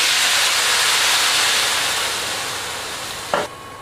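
Water poured into a hot pan of roasted vermicelli sets off a loud, steady hiss of steam that fades slightly before stopping abruptly.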